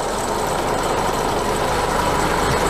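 A heavy truck's fully mechanical diesel engine, with belt-driven compressor and alternator, idles smoothly and steadily close by, a dense even low rumble with no voices over it.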